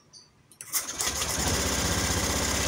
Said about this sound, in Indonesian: Apakah dia mau di starter? Kita tes dulu